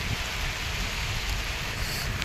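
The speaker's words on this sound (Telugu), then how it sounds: "బయట అయితే వర్షం పడుతూనే ఉన్నది" Heavy rain pours steadily outdoors, a dense, continuous hiss with low rumbling undertones, constant in level and with no voices.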